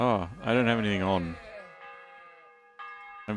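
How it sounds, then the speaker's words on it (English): A bell rings in Kingdom Come: Deliverance with sustained, resonant tones that linger and return after someone speaks loudly at the start. "Who's ringing the bell then?"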